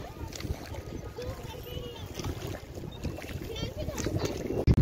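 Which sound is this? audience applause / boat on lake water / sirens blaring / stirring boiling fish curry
boat on lake water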